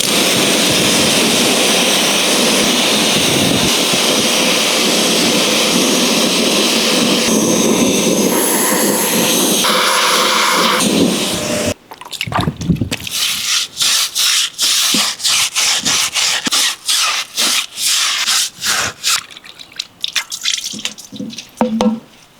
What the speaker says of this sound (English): It would help if I turn my pressure washer on,